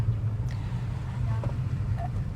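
A non-hybrid Maruti Brezza climbs a hill road in third gear at steady speed and low revs, giving a constant low engine drone and road rumble that stays even and close throughout.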